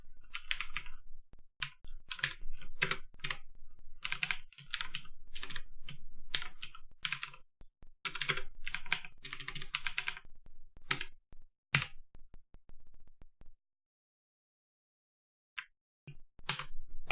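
Close, brisk typing on a computer keyboard comes in fast bursts of clicking keys, then pauses, with sparse taps near the end.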